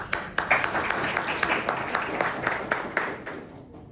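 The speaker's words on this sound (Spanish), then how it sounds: "Aplausos." A classroom group applauds after a student's art project, a small cluster of hands clapping steadily and fairly close for about four seconds before tapering off.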